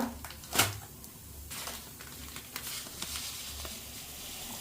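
Cumin seeds sizzle in hot oil in a pot on the stove, a faint crackling hiss broken by a sharp clatter early on and scattered clicks and pops.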